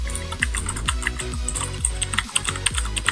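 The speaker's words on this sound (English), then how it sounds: "I'm not typing like extra hard or anything. That's just the normal sound." Typing on a new computer keyboard, a rapid run of crisp, close key clicks with uneven rhythm, played at normal pressure and heard alone without talk.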